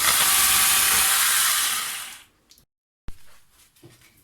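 An electric mixer whipping tahini whirs with a loud rushing hiss for about two seconds, then winds down and stops, followed by a few light knocks.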